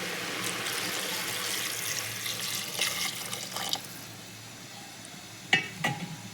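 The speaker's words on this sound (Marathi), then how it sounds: "आता आपण त्याच्यात पाणी ओतूया" Water pours steadily into a metal pot of pav bhaji with a soft rushing splash, followed near the end by a couple of brief metallic clinks.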